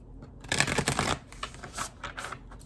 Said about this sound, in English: I'm just doing 3 shuffles and then I'm picking